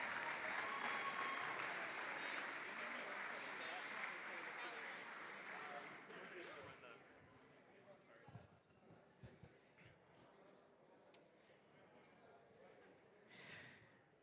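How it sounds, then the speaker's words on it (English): Audience at a robotics league tournament applauds volunteers, strong clapping for about six seconds that fades into sparse scattered claps, murmurs and a brief swell near the end. "Can we get a round of applause for all of our volunteers here today"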